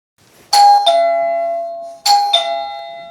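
A home doorbell gives two loud, close ding-dong chimes about a second and a half apart, each pair of tones ringing out and decaying, with no talk.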